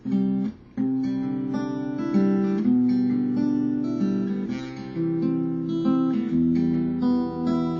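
Steady fingerpicked acoustic guitar chords in standard tuning ring out in a flowing pattern with a brief pause near the start, played alone and up close.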